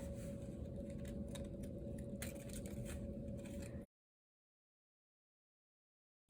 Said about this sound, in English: Clean that up with the scissors.